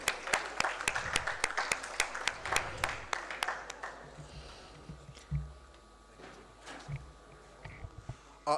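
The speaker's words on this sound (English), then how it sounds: "a round of applause for him." Audience applause at a bank trade seminar, starting as sparse, distinct claps at close range, then thinning into scattered faint claps and room noise.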